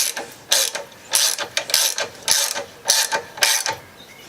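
Ratchet wrench tightening forward control bolts on a Harley Dyna motorcycle, a series of short loud clicking bursts in a quick irregular rhythm, close up with no voices.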